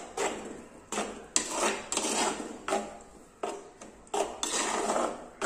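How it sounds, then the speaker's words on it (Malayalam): Beetroot pachadi with yogurt is stirred in a pot, a spoon scraping and knocking against the sides in repeated rhythmic strokes, close and fairly loud, with no talking. "ഇനി നമുക്ക് നന്നായിട്ട് ഇതൊന്ന് ഇളക്കിയെടുക്കാം."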